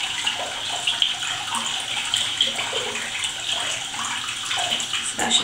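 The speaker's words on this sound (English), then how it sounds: "and run the tap." A tap runs steadily to rinse a make-up brush, a close, continuous splashing water flow with small fluctuations as the brush moves under the stream.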